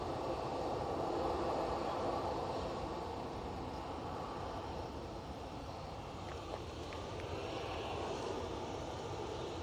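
A Ryanair airliner on approach to land at Bristol Airport gives a broad, steady jet roar that swells and then slightly eases, heard alone without talk.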